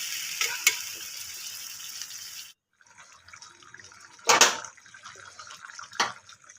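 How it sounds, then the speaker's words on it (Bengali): Water goes into a pan of simmering egg curry, a loud sizzling rush that cuts out briefly, then a splashing pour and bubbling as it settles, with a second shorter splash near the end. "এবার জল দিয়ে দিচ্ছি, দেখছি জল দিয়ে দিলাম।"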